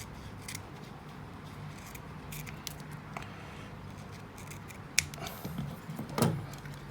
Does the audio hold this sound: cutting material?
yes